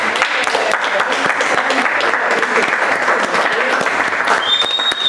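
A live audience applauds and cheers loudly for guests being introduced on a podcast, with dense continuous clapping and whoops throughout and a voice calling out near the end.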